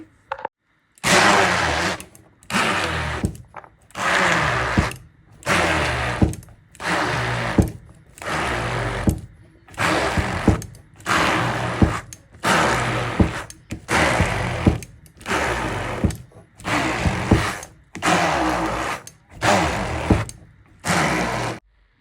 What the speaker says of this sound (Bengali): বুটের ডালটা ঠান্ডা হয়ে গেছে এখন আমি হ্যান্ড ব্লেন্ডার দিয়ে ব্লেন্ড করে নিব